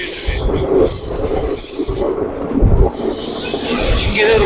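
A passenger train on the Dharmapuri to Muthampatti line rolls loudly along the rails, wheels squealing and screeching under a constant roar of rumble and hiss, heard from on board with no talk.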